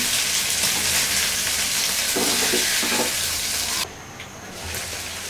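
Boneless chicken tikka kebab pieces frying in hot oil, a loud steady sizzle filling the clip, dipping briefly near the end before resuming.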